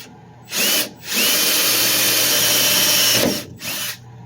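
Power drill boring through a used automatic transmission case for a Chevy LUV 4.3 Vortec V6 swap, whining in two short bursts and then one long steady run before stopping, close up and loud with no talk.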